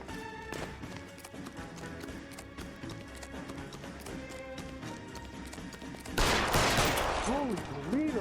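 Rapid bursts of gunfire from the video game L.A. Noire crackle continuously in a fast, dense volley, then a louder, harsher blast with a ringing, wavering tone takes over near the end.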